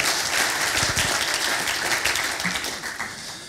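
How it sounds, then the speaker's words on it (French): Conference audience applauds at a 2019 national arboriculture colloquium, a close, full burst of clapping that gradually thins and fades over a few seconds. "Merci Pascal, oui, vous pouvez l'applaudir."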